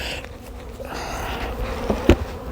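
Honeybees buzz around an open hive during a winter check, a close, steady droning hum with individual bees passing near and a brief louder bump near the end, no talking.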